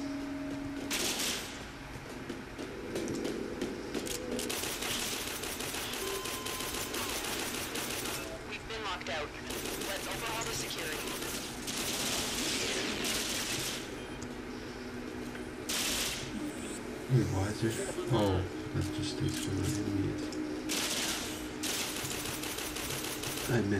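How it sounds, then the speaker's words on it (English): Gunshots in the video game Warframe, repeated bursts of rapid firing spread through a noisy game soundscape, moderately loud, with pauses between volleys. "I missed all those shots."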